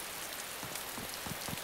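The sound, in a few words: rain falling in the video game DayZ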